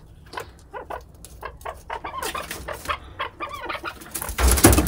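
A caged chukar partridge calls over and over during a breeding pairing, giving a run of sharp, clucking notes in an uneven rhythm that swells into a louder, denser burst at the end, with no talking.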